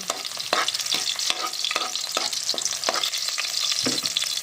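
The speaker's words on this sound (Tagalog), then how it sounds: "Maglalagay po tayo ng garlic. Isayin natin yung garlic. Haluan natin." Garlic sizzling in hot oil in a pan as a base for mung bean stew, with regular spatula scrapes and taps against the pan, close and with no talk.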